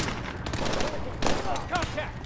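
Light machine gun fire in Call of Duty: Advanced Warfare on PC, a short close burst of rapid shots with a sharp crack at the end, set against game background noise.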